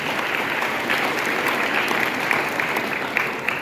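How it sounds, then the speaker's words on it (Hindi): An audience claps steadily for a group of young children at a formal welcome event, the applause dense and sustained from start to finish with no pause. "आपके लिए भी प्लीज तालियां बजाइए बच्चों के लिए।"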